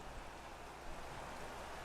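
Steady rain in the F1 2016 racing game at Albert Park, Melbourne, home of the Australian Grand Prix, a constant dense hiss of falling water with no voices.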